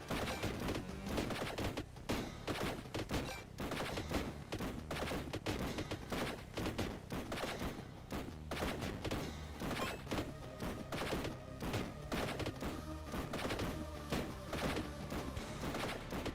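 Rapid, dense gunfire rattles nonstop in a Warhammer video game, loud bursts and shots overlapping with thuds and crashes throughout.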